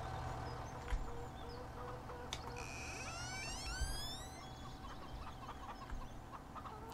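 Chickens cluck softly on a farm in Farming Simulator 17, faint and intermittent over a steady low hum, with a brief rising electronic tone in the middle.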